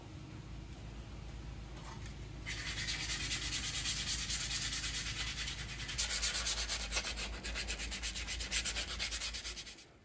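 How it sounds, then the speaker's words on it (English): A wooden wahoo spearfishing decoy is sanded, a close, continuous abrasive rasp that grows louder and rougher partway through, with no talking. "So I got this all sanded down."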